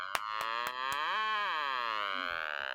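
A cow moos in a long, drawn-out, wavering call that swells in the middle, preceded by a few sharp clicks and fairly faint overall.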